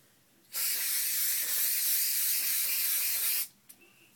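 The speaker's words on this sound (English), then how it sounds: "take your glue, and you're just going to spray a nice even coat on the base ribbon" A single long hiss of spray adhesive from a can onto ribbon, loud and close, then a quiet tap after it stops.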